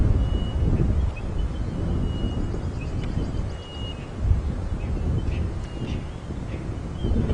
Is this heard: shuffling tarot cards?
no